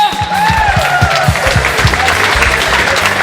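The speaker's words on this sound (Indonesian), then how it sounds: "Tepuk tangan bagi Allah kita." A congregation at a revival service held with a prison community applauds loudly and close by, a dense burst of clapping mixed with cheering voices that carries on throughout.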